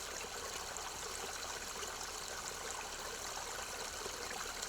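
A clear mountain stream in the Low Beskids flows steadily, a continuous close hiss and gurgle of water with no voices.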